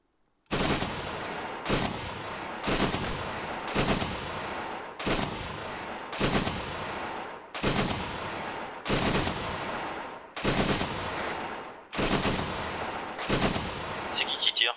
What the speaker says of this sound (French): C'est qui tire?